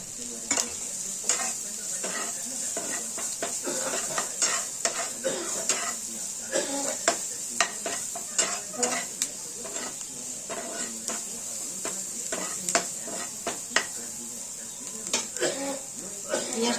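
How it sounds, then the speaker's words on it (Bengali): Chopped onion frying in a pan while being stirred, a steady hiss under brisk, repeated scraping strokes of a spoon that keep an uneven rhythm throughout, close and clear. "পেঁয়াজটাকে আমরা ঠিক হালকা লাল করে ভেজে নেব।"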